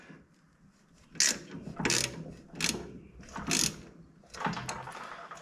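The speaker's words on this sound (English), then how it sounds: "Now that little ratchet, it's not the torquiest little thing," A small hand ratchet tightens a bolt on a 1997-2001 Honda CR-V front strut, giving five or six distinct bursts of quick clicking separated by short pauses, close and clear with no talking.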